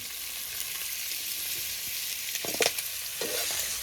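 Turmeric dropped into hot oil in a pan sizzles and fries steadily up close, with a brief burst of stirring scrapes partway through and no talking.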